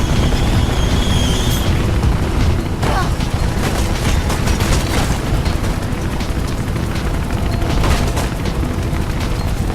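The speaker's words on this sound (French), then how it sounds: "Ah, Jess, il me tire dessus." Rapid gunfire aimed at the player in the video game Mirror's Edge, loud bursts of shots and booming impacts over a constant rumbling game soundscape, with occasional voice in the mix.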